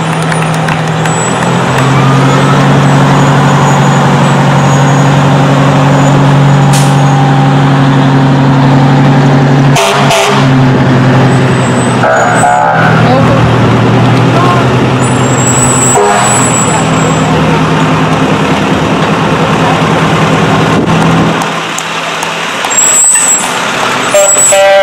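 Fire department trucks roll past in a village parade with a loud idling engine rumble, several sharp air-brake hisses and short horn toots, while people talk nearby over the steady engine noise.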